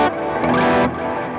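Electric guitar chords ring out through an effects unit with heavy distortion, a thick sustained wash that briefly brightens with a strummed accent before settling into a slightly darker held chord.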